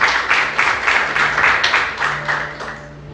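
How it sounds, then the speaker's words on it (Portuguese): A church congregation claps together in a steady rhythmic beat, loud and close, with the clapping easing slightly toward the end. "Você pode aplaudir Jesus?"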